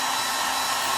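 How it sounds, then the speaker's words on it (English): A hair dryer blows steadily and loudly at close range while drying a thin watercolor wash, a continuous even whoosh with no voices. "So the hair dryer"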